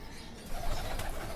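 Male Kale Chapdar flying pigeons give soft, low cooing calls, a faint murmur that swells slightly partway through with no voices.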